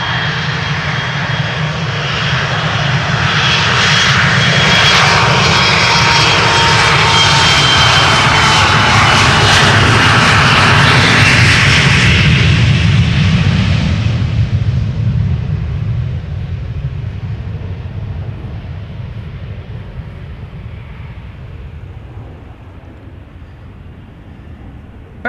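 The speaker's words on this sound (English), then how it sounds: "From center, a 737 KLM to Munich just took off." A KLM Boeing 737 jet takes off from the Polderbaan runway at Schiphol, a loud, close, broad engine roar that swells and holds, then gradually fades into a lower rumble as it climbs away.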